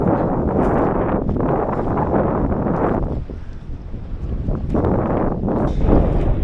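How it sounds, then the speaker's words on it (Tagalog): Strong wind roars and buffets the microphone continuously, with a brief lull before it gusts back up, loud and close. "Mahangin, everyone."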